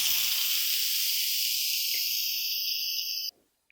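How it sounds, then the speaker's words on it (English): Instant Pot pressure vent releasing steam: a loud, steady high hiss running continuously for over three seconds, then cutting off abruptly into near silence with a faint click or two. "you want to use a wooden spoon and release any remaining pressure"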